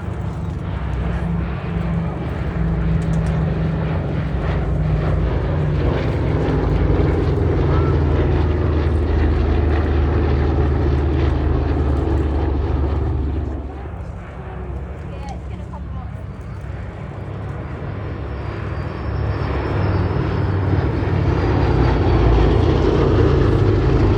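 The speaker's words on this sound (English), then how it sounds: "Stunning formation of the B-17 Sally B and the P-47, the Jug, the Thunderbolt." A B-17 bomber and a P-47 Thunderbolt fly in formation at the Sywell 2024 air show, their piston engines droning loudly and continuously. The roar dips briefly midway and then swells again under a commentator's voice.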